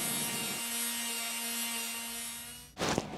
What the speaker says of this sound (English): time to go back to sanding.